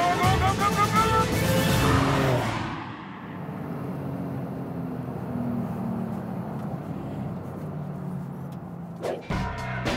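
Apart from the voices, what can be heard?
Porsche 911 Sport Classic driving fast, gear shifting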